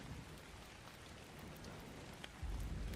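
Steady rain in ARK: Survival Ascended on the Island map gives a continuous quiet hiss of falling drops, with a low rumble swelling in the last half second.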